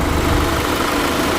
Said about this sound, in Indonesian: Mesin engine on, no asap-asap, no aneh-aneh.